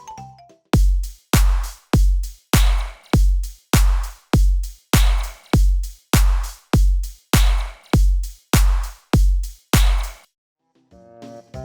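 Electronic midtempo drum beat with crisp hi-hats layered over a deep kick and snappy clap, hitting in a steady, loud, punchy rhythm of about sixteen evenly spaced hits before stopping abruptly, with no talking.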